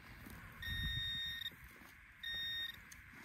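Two steady electronic tones from an XP Deus II metal detector sound over a faint outdoor background, each lasting about a second with a short gap between them, clear and close.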